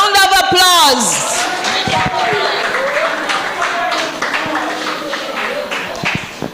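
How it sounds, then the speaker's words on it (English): An audience at a spelling competition final applauds the finalists with a crowd of hands clapping steadily, while voices talk over it at the start. "Let's give them a round of applause."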